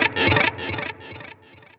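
Electric guitar run through a delay and echo pedal, a distorted phrase with repeats trailing off in steps, each echo fainter than the last, heard alone at moderate loudness.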